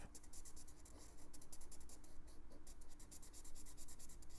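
A drying-out marker drawing on paper, rapid scratchy strokes in quick bursts, close and fairly quiet, with no voices.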